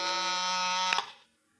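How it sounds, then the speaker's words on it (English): A desk buzzer in a 1950s radio drama gives one steady, loud electric drone lasting about a second before cutting off abruptly, with a short fading tail and no voices over it. "It was time for the buzzer on my desk to sound out the call"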